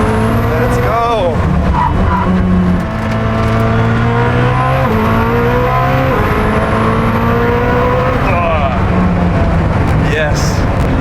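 A turbocharged hypercar accelerates hard around a race track, its loud engine note climbing and dropping through gear changes with tire squeal mixed in, while a driver talks over it.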